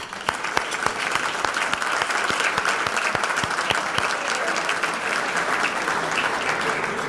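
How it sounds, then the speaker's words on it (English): Audience at a university Hall of Fame ceremony gives sustained applause for honored students, a steady dense clatter of many hands filling the room at even loudness throughout. "So let's give a round of applause for our students"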